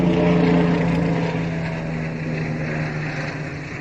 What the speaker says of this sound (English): helicopter flying on.